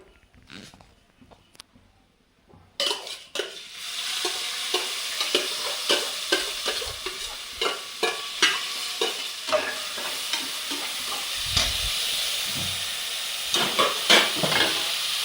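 Rice stirred and fried in a pan with cashews for little millet pongal: after a quiet start, a steady sizzle sets in, punctuated by rhythmic spatula scrapes and knocks close by.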